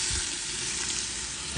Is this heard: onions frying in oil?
yes